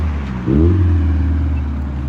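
A car engine revving once, a loud close rise in pitch that settles back into a deep steady idle rumble.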